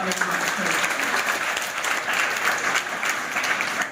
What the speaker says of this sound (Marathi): या सर्व विद्यार्थ्यांसाठी जोरदार टाळ्यांचा